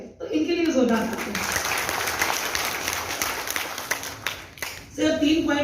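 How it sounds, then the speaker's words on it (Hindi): Loud, sustained audience applause fills a Women's Day program hall, with someone speaking briefly at the start and again near the end over the clapping. "इनके लिए जोरदार तालियां।"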